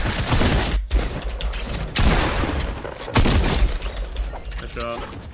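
Gunfire from a Fortnite match, with broadband shot bursts around the start, middle and three-second mark mixed into dense game sound and some player talk.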